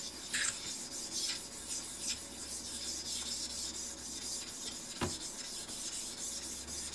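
A Suehiro Nagura cleaning stone rubbed steadily back and forth across a Shapton Pro whetstone surface, giving a continuous close gritty rasp with soft strokes and one sharp tap near the end.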